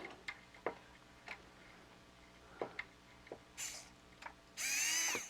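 A restored TOMY Space Turbo toy mechanism whirs on a 9-volt battery, starting with scattered faint ticks and clicks and ending in a loud, steady motorized buzz.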